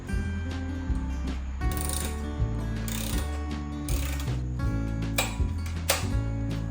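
A throttle line is tightened on a McLane reel mower fitted with a Predator engine, giving close, steady ratcheting clicks and mechanical ticks that repeat in even pulses throughout.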